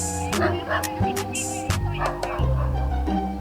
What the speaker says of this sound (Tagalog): Alam, ang daming aso.